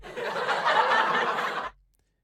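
A canned laugh effect fired from a podcast soundboard: a short burst of crowd laughter and chuckles swelling briefly, then cutting off abruptly into silence.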